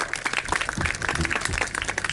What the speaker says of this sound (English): Go on, give her a clap.